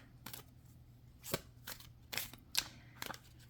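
A Beautiful Cards deck being shuffled with cards drawn out, heard as a handful of separate crisp riffles and snaps at close range in a quiet room.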